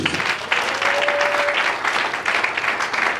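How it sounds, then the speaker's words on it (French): A church congregation applauds, a dense sustained clapping from many hands filling the room steadily throughout, loud and continuous with no break. "Acclamons pour le Seigneur."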